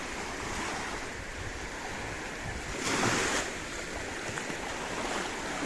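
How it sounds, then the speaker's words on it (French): Ocean waves wash steadily onto the beach at Narbonne-Plage in southern France, a continuous broad roar with one louder surge breaking midway, mixed with wind rumble on the microphone and no talking. "Il y a plus de vagues ici par contre."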